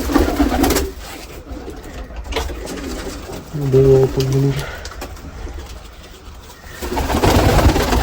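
Pigeons inside a pigeon cage give soft, low cooing calls, a clear burst near the middle amid rustling and background noise, with no speech over them.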